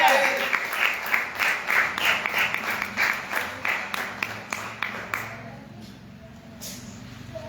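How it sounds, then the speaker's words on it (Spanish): A church congregation claps in a strong, steady rhythm of loud, evenly spaced beats that weakens and stops near the end, with a voice speaking over the clapping. "Aplauda fuerte, apláudalo fuerte."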